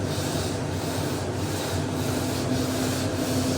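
Someone hand-sands a fiberglass boat transom cap to fair it out, making a continuous close rasping rub with slight rhythmic strokes and no speech.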